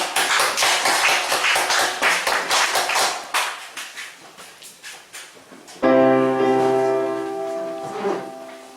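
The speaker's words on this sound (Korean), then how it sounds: "박수 한번 쳐주세요" A small group claps in a steady rhythmic beat during a Korean home church visit, close and fairly loud, fading out before a sustained keyboard chord enters.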